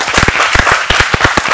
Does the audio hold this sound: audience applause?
yes